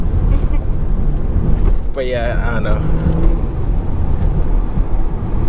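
A tuned stage 2 BMW M340i engine rumbles low and steady at close range, droning under a voice as he talks over it.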